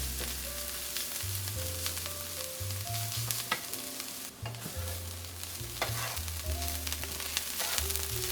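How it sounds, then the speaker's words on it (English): Cauliflower browns in butter in a hot pan with a steady sizzle, while a utensil stirs and scrapes it now and then, close up and with no talking. "push your cauliflower into a thin layer so that it has a chance to brown in the butter"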